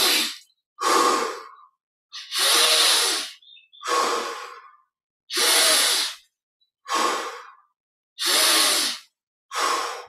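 Slow, deliberate breaths in and out during a guided relaxation meditation, each long airy inhale and exhale separated by brief silences, close and clear, about eight breaths with no voice over them.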